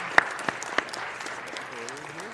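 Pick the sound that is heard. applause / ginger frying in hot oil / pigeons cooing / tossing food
applause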